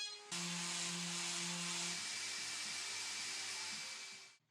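A power sander whirs steadily at close range on rounded-over wooden table rails, its pitch dropping partway through before it winds down at the end.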